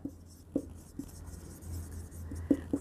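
Pen strokes scratch across paper during a class 12 accounts lesson, faint and close, in short irregular strokes with soft taps.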